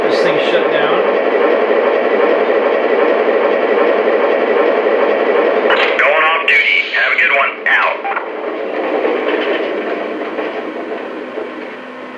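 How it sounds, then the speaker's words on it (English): A Lionel model train locomotive's sound system powers down, a steady electric hum with rail-like rumble that sputters with clicks and crackles before tapering off, loud and close. "So that's a quick overview of the Lionel rail sounds"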